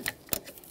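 A torque wrench tightening the camshaft position sensor bolts on a 1999-2006 Chevrolet Silverado 1500 with a 4.3L engine gives a few sharp, close mechanical clicks in quick succession, with no voices.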